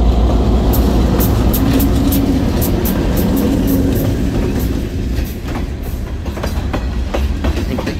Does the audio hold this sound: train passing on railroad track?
yes